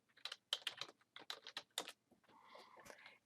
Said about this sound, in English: you're going to type insert on the command line